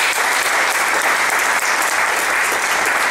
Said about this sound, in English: I want to give a round of applause for all the new guests.